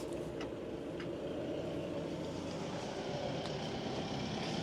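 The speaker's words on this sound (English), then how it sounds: "car going past, ignore the noise" A car drives past outdoors beside a Ford Ranger, a steady broadband traffic rumble filling the whole stretch at moderate loudness with no talk.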